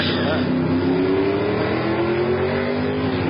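Drag racing cars launching and accelerating down the strip at Hot Rod Drag Week in Tulsa, Oklahoma, a loud sustained engine roar with rising pitch filling the whole stretch.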